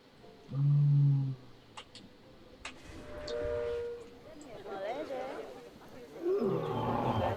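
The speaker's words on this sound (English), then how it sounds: "Panthera leo, or the West African lion to you and me." A West African lion in the zoo-building game Planet Zoo gives a deep, loud roar, followed by softer grunts and growling calls mixed with other faint park ambience.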